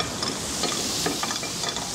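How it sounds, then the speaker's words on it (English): Scallops searing in a hot frying pan give a steady, close sizzle and crackle with soft spatters throughout, no voices over it. "It's very important when you fry scallops that you don't fry them for too long, because they can become rubbery."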